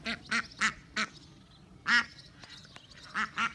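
A duckling quacks in repeated short, bright bursts, several in a row with brief gaps, fairly close and clear over a faint rustling background.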